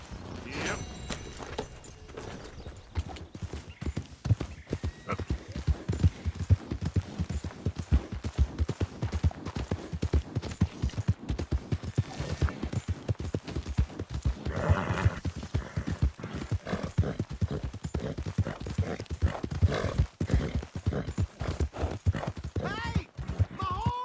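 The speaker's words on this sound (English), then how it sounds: "Hey! My horse! Am I glad to see you?" Horse hooves clip-clopping steadily in Red Dead Redemption 2, a quick even rhythm of close hoofbeats running throughout, with occasional neighing and faint background sounds.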